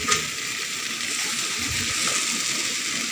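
Water pours steadily into a blender jar in a kitchen, a continuous bright splashing rush at close range with no talking.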